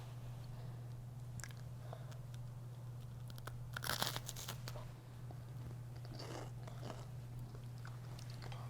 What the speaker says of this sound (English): now is the moment of truth for Nathan to give his taste just for YouTube like he said he would